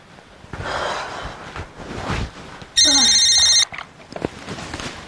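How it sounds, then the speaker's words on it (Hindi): An electronic phone ring bursts in briefly for under a second, loud and steady, between stretches of breathy noise and muffled movement. "अरे सासू माँ जरा देखो तो सही किसका फोन है।"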